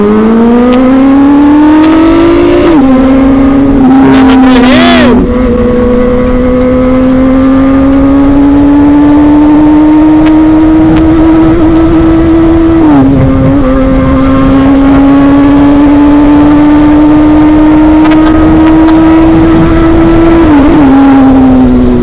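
Big new motorcycle engine droning loudly under a tunnel at night, a sustained roar with several brief throttle blips and pitch dips, echoing and close throughout with no talk.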